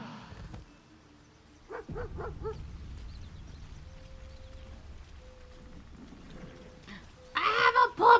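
A puppy in the video game Baldur's Gate 3 gives a few short yips and whimpers, followed by a louder burst of yelping near the end, over quiet game ambience and music tones.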